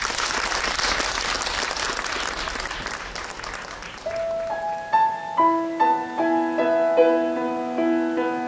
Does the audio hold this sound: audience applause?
yes